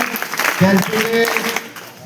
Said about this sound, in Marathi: एकदा आरटीओ साहेबांच्यासाठी एकदा जोरदार टाळ्या वाजवायचे